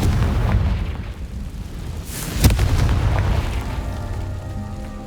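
A Confringo fire spell in Hogwarts Legacy bursts with a loud, booming explosion amid a rumbling game soundscape, a sharp crack followed by a low, decaying roar and ringing tones.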